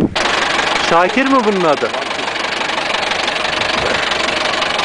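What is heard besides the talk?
tractor engine idling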